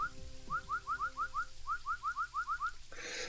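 Whistle in a horse riding video game, a rapid series of about thirteen short rising chirps in two bursts, crisp and fairly loud, followed by a brief hiss, with no talking.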